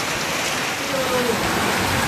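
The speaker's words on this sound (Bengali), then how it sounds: "মুর্শিদাবাদে কালবৈশাখীর ঝড় বৃষ্টি" Steady, dense rain pours down during a Kalbaishakhi storm in Murshidabad, a continuous hiss of water on surfaces holding at an even level throughout.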